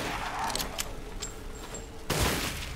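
Sniper rifle fire in Resident Evil Village, a couple of sharp shots with echoing tails, the last one louder and closer, followed by a burst of rumbling impact.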